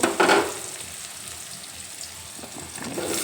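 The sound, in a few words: potatoes added to onions frying in a pan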